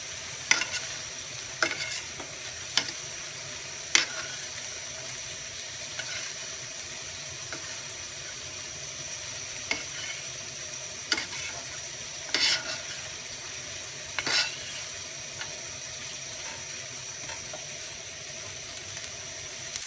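Rice browning in a pan, spread flat and left untouched, gives a steady close sizzle throughout, broken by a few sharp scraping clicks of a utensil against the pan.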